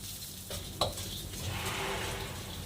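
Urad dal, green chilies and chana dal frying in a pan: soft steady sizzle with a spoon stirring and a single light clink of utensil against the pan.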